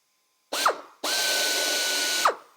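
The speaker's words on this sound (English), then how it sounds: "I'm using a number 30 drill here." Power drill with a number 30 bit working into a Renegade aircraft wing, close and loud: a short whirring burst, then a longer steady run at one pitch that winds down at the end.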